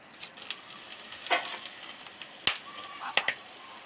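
Whole cardamom, dried chilli, cinnamon and bay leaves sizzle quietly in hot oil, with light crackles and a few sharp pops and clicks against a faint steady hiss.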